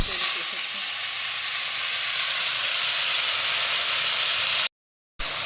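Bottle gourd sizzles hard in hot oil with five-spice seeds and dried chilli, a loud steady frying hiss that carries on without a break before cutting off abruptly near the end.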